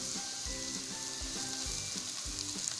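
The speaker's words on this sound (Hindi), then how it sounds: "हम इसमें डालेंगे 2 मीडियम साइज़ के टमाटर।" Two medium tomatoes dropped into hot oil with ginger-garlic masala for chicken tikka biryani, a quiet steady sizzle with a few regular scraping stirs, close and without talk.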